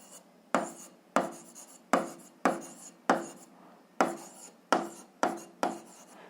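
A pen writing out a math solution on paper, heard as about ten short scratchy strokes in an uneven rhythm, close and clear with quiet gaps between them and no voice.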